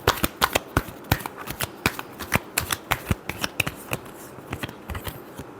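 Tarot cards being shuffled by hand, a steady run of crisp riffling flicks and taps, close and clear with no voice over them.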